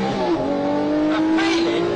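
A Lamborghini Murcielago LP640 engine roars and climbs in pitch as it accelerates hard, loud and close, one continuous surge.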